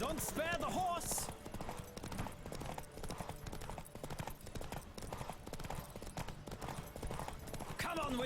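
Fast galloping hoofbeats pound continuously during a horse race in The Witcher 3: Wild Hunt, with a horse whinnying at the start and again near the end, and game characters shouting over the galloping.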